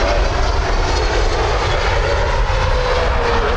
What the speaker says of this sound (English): Big aero braking on the 777.